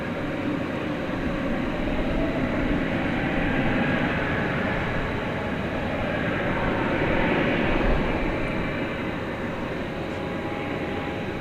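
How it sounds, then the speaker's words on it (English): Spirit Airlines Airbus A320neo jet at DFW Airport at night, a steady broad engine roar heard from a distance, rising and falling gently over the whole span. "It's Flight 3715 going to San Antonio, Texas, an Airbus A321neo. Sorry, an Airbus A320neo."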